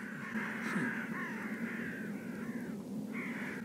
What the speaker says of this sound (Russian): Вороны-то раскорячались, как этот, ночной дозор, нахрен.